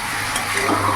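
Fried chicken pieces being stirred with sauces in a hot pan for chilli chicken, a loud continuous sizzle with a scraping spatula, close up.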